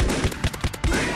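Rapid bursts of gunfire from a horror shooter game facing animatronic enemies, several sharp shots in quick succession over a dense, loud game soundtrack.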